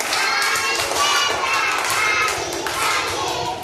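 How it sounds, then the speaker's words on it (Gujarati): A group of primary-school children clapping hands together during a classroom activity, a dense, steady patter of many claps mixed with children's voices throughout, close and fairly loud. "ત્રણ કેતા તાળી પાડીએ"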